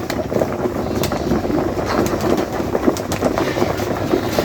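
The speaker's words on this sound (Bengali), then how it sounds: "এবং ট্রেনের মধ্যে খাবার দিচ্ছে ট্রেনের শব্দ হচ্ছে" A train rumbles past nearby as a steady, loud, dense roar with faint rattling clicks throughout and no clear voices.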